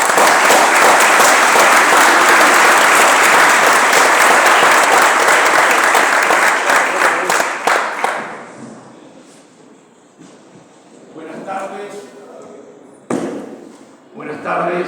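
A lecture audience at a book fair greets the speaker with loud, sustained applause for about eight seconds, fading into scattered claps and light handling noise, followed by a brief burst of clapping.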